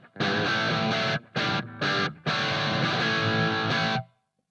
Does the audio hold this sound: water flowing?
no